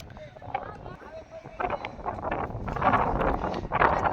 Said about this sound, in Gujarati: પવન જોરદાર એ નડે થોડોક ખલેલ પાડે પવન